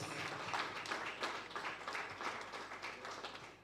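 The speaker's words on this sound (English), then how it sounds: "Please, let's give him a round of applause." Conference audience giving a round of applause, many hands clapping in a steady, even stream throughout, fairly faint and diffuse as if heard from across a hall.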